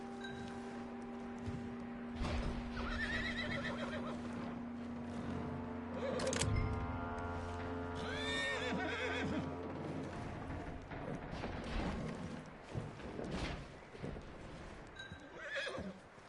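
A horse in a PS4 video game whinnies loudly and snorts, with clip-clop hoofbeats and ambient game sounds around it, close and fairly continuous with no speech.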